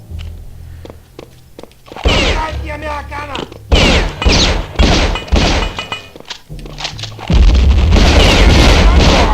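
Grenade blasts and impacts in Return to Castle Wolfenstein, loud booming thuds that come in bursts over a constant game backdrop, with heavier rumbling toward the end.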